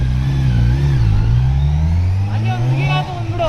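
A superbike in rain mode revs hard and pulls away, its loud engine note rising in pitch and staying close throughout the short burst of acceleration.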